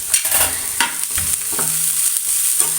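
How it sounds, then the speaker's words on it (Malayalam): Grated carrot and chopped capsicum sautéed in a pan for vegetable rolls, a soft sizzle punctuated by several quick scraping stirs close by. "നല്ലോണം അതൊന്ന് മിക്സ് ചെയ്തിട്ട് നല്ലോണം അതൊന്ന് വാട്ടിയെടുക്കാം"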